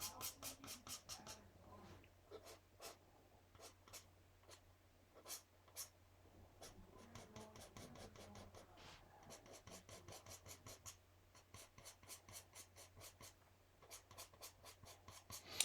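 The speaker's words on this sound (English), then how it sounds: "I'm just scraping some of it off right here" A tool scrapes excess ink off a smooth Claybord panel in quick, quiet, repeated rasping strokes, steady at first and then speeding into tight rhythmic scratching, heard alone and up close.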